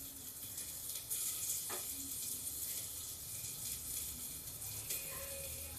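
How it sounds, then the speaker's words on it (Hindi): Garlic and onion fry in a pan with a faint, steady sizzle, a few light clinks and scrapes over a quiet background, and no voices. "देखिए इसमें ये लहसुन भुन रहा है।"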